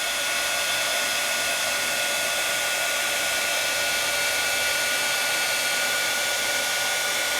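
A heat tool blows steadily and loudly throughout, melting finely ground plastic embossing powder, its constant fan-like whoosh unbroken and with no talking.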